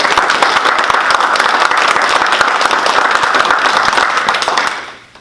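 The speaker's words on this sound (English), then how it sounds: "I want to give a round of applause for our" Audience applause fills a community conversation event, a dense, steady wash of many hands clapping close and loud, continuing evenly before fading out in the last half second.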